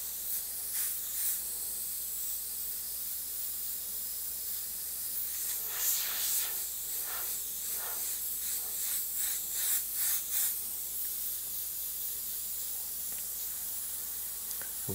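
Airbrush spraying paint over a stencil mask, a steady soft airy hiss with repeated short bursts of spray pulsing louder in the middle, close and continuous with no voices.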